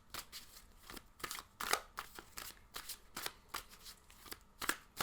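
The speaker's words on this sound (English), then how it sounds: "Does it annoy you to hear the shuffling?" Tarot cards being shuffled by hand during a group reading, a steady run of quick riffling bursts, close and crisp, repeating about every half second with no talk.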